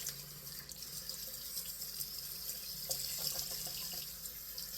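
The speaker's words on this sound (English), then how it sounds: "then we'll rinse out this little yucky brush" Tap water runs steadily into a sink while a shaving brush is rinsed under it, a soft, continuous splashing hiss heard close but fairly quiet.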